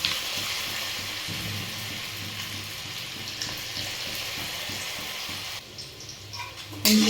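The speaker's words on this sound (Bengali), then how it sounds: "ওলট পালট করে কর্নগুলোকে ভেজে নিচ্ছি" Baby corn pieces fry in hot oil as they are turned over for a sweet chilli baby corn dish, giving a steady close sizzle with a sharper crackling burst at the very end.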